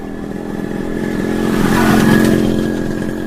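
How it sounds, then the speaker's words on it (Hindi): A motorcycle engine runs close by, its buzzing, rattling note swelling in loudness toward the middle of the short stretch and easing slightly at the end, with no voices. "He is on a motorcycle."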